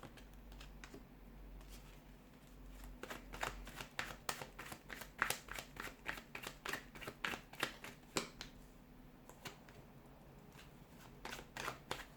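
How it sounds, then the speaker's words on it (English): A deck of tarot cards riffles and snaps in quick bursts, a series of crisp shuffling clicks, close and fairly quiet. "give the cards a shuffle"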